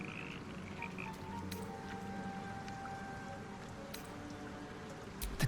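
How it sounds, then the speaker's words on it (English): Frog in Baldur's Gate 3 croaking erratically in irregular bursts, close and fairly steady against a faint ambient background, with no voices present. "It ribbits erratically as if in pain."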